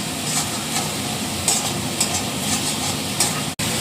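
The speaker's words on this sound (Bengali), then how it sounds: "সব কিছু একটু ভালো করে ভাজা করে নিতে হবে।" Onion paste and ground coriander frying in a pan give a steady close sizzle with light stirring scrapes throughout, and no one speaks.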